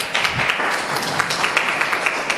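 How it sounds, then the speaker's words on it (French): A conference audience applauds, a dense steady patter of many hands clapping throughout at moderate loudness, with no one speaking over it. "Applaudissez-le encore s'il vous plaît."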